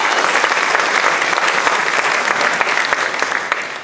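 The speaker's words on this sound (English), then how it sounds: "So let's give Shelley, in spirit, a big round of" Applause at a community awards banquet, a steady round of clapping from a close crowd with distinct individual claps standing out, holding evenly before easing slightly at the end.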